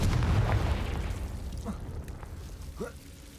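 A Confringo fire spell blasts in Hogwarts Legacy, a loud explosive burst at the start that rumbles and fades over a few seconds, with brief voice sounds following.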